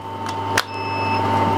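An Intex pool salt-water electrolyser gives short electronic beeps over a steady mains hum, then settles into a constant high tone as it starts running.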